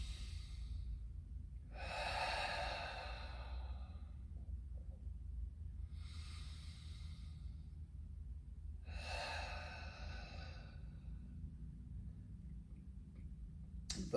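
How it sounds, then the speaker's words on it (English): Someone breathes deeply during a stretching exercise, four slow breaths up close: long inhales and exhales that alternate with quiet pauses over a low background hum. "Take some deep breaths as you go."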